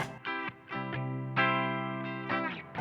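An electric guitar sounding through reverb and delay pedals, a short phrase of picked notes that ring and smear into one another, close and clear, with no talking.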